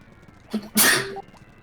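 A single sharp human sneeze, close and loud, preceded by a brief intake of breath, then quiet.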